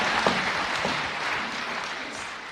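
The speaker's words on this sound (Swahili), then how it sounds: "Mpe Bwana makofi" Applause from a church congregation, a dense continuous clapping that fills the whole moment at steady loudness, with a few scattered voices mixed in.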